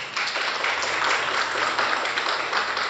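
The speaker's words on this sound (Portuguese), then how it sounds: "Eu vou dar uma salva de palmas aí" A church congregation claps together during a Portuguese-language evangelical service, loud, steady and continuous applause with no voices over it.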